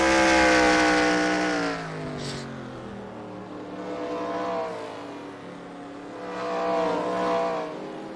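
Modified race cars on the oval at Spencer Speedway during a heat race, their engines roaring loudly as they pass, fading and then swelling again as another pack drives by.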